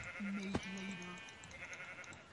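Sheep in the Minecraft video game give a short, clear bleat, a single wavering call up close, with no talk over it.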